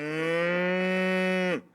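A single long cow moo rings out as a sound effect, loud, steady and low, holding for over a second before dropping off abruptly at the end.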